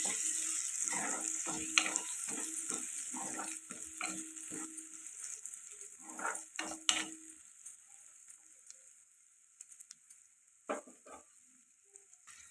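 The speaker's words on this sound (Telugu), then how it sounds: "ఇలా ఫ్రై అవుతుంది కదండి" Masala and green peas frying in a pan for dhaba-style paneer matar curry, with close scraping stir strokes over a steady sizzle that thins out and grows quieter toward the end; no talking.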